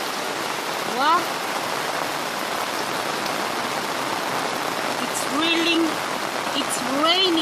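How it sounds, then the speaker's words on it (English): Heavy rain falls rapidly and without pause in a village, a dense, even wash of water noise, with a few short vocal exclamations rising over it. "It's raining rapidly, like you can see."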